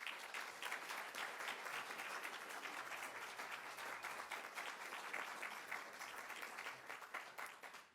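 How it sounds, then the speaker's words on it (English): A candidate forum audience for a mayoral race claps steadily throughout, a dense, sustained round of applause from a roomful of people with no talking over it. "So please, a round of applause."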